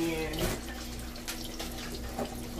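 Tap water runs steadily into a measuring cup in a home kitchen while grits are being made, a continuous close splashing flow with a soft faint voice underneath.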